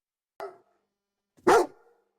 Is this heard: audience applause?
no